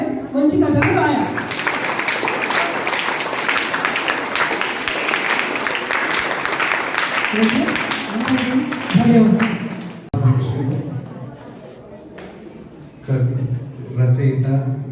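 Loud clapping from high school students at a book review event rises and holds for several seconds, mixed with voices, then fades as talking continues over quieter stretches.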